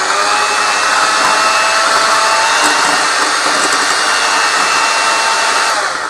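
An electric hand mixer beats butter and sugar together for a cake, running on its slow setting with a steady, loud, unbroken whir throughout.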